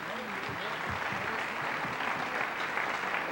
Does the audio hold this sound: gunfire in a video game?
no